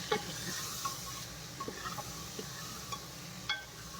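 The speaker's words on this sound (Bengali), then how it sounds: "এগুলো দিয়ে এখন আবার একটু ভালো করে কষে নেবো" Taro and potato stir-fried in a pan with chili powder and a little sugar, a steady sizzle under scattered scraping stirs and soft clinks of the spatula, close and moderately loud with no talking.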